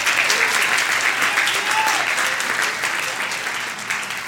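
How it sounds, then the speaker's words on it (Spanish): Sustained applause from a church congregation fills the sanctuary, steady and dense throughout, with a faint murmur of voices beneath the clapping. "Dale un aplauso al que vive y reina."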